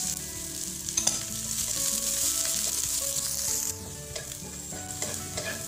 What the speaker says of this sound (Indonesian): Kemudian akan saya masukkan separuh zucchini.